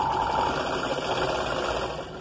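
Sewing machine stitching a blouse: a continuous, steady mechanical whir with fast rhythmic needle chatter, close and fairly loud, running for the whole stretch with no talking.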